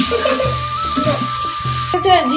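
A metal spatula stirs chicken curry spices in a pan on a home stove, giving scraping strokes over a steady sizzle, with a few clinks near the end.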